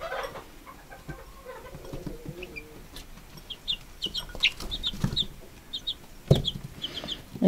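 Young chicks peeping in quick, high chirps close by, scattered and irregular, with soft rustling and light knocks underneath.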